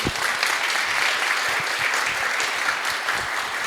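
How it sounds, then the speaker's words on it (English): A room full of listeners applauds after a talk on foundational models for biology and longevity, with brisk, close clapping of many hands that stays steady and fairly loud throughout. "Round of applause."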